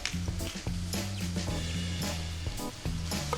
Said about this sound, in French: on fait revenir ces morceaux dans un peu de beurre